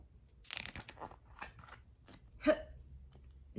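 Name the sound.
voice imitating a penguin's hiccups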